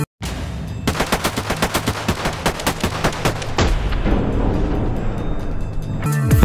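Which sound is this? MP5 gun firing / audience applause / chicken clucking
MP5 gun firing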